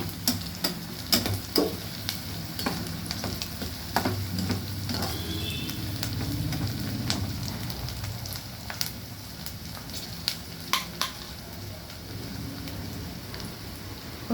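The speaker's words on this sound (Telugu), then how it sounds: "పన్నీర్ వచ్చేసి చిన్న ముక్కలు కట్ చేసుకొని ఫ్రై చేసుకోవాలి, ఆయిల్లో ఫ్రై చేసుకోవాలి" Small pieces of paneer frying in oil, a steady soft sizzle with scattered pops and occasional stirring clicks, close but fairly quiet and heard without talk.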